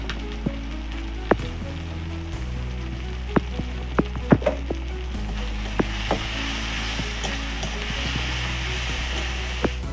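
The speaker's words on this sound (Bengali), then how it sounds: "মশলাটা কষানো হয়ে গেছে" Chili and turmeric masala fries in oil for a mung dal tarka, a continuous low sizzle broken by scattered sharp ticks and pops from the spatula and spitting oil.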